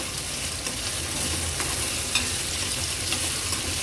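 Chopped onion sautéing in oil sizzles in a constant, fairly loud hiss, with scattered light scrapes and taps of stirring in the pan and no talking.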